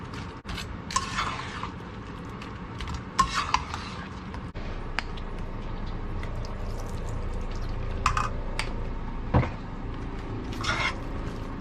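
Cauliflower for Gobi Manchurian is tossed and mixed in a pan, giving soft, intermittent clinks and scrapes of a utensil against metal over a quiet background.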